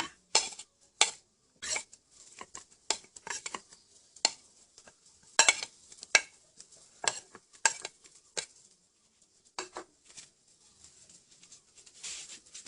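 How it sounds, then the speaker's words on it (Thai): Scattered soft clinks and taps of utensils against a pot of boiling water as lemongrass and chili go in, close by, with light rustling and no talking. "ตะไคร่กับพริกลงก่อนนะจ้า"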